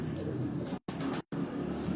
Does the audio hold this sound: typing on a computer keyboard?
no